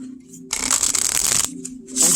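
A deck of tarot cards being shuffled close up, a quick riffling burst lasting about a second between quieter moments.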